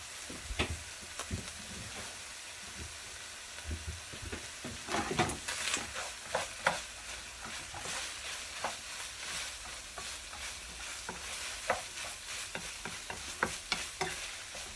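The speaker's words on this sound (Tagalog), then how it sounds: "Yan, hinahalo ng hinahalo." Onions and ground meat for spaghetti bolognese frying in a pan, a soft, fairly quiet sizzle broken by frequent scraping and tapping strokes of a spoon as the mixture is stirred again and again.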